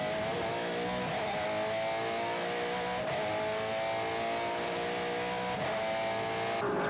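V8 touring car racing at Teretonga circuit in New Zealand, with a Toyota Camry among the field: a loud sustained high-revving engine roar at speed with shifting pitch and brief gear-change dips, no talk.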